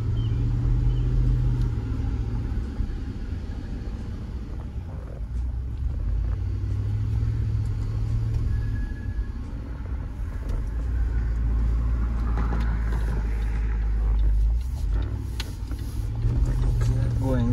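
A Range Rover Sport L320 with freshly replaced brake fluid climbs a street uphill, its engine droning and rumbling steadily with swells of revving, heard from inside the vehicle at moderate level.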